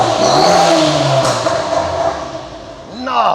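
A modified Honda DC5 engine revs loudly and close, its pitch rising and falling across the clip, with a short burst of a voice near the end.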